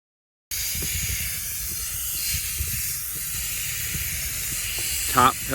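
A sprayer laying down a top coat on a metal roof, giving a steady, loud, continuous hiss that holds evenly throughout, with a brief rattling burst near the end.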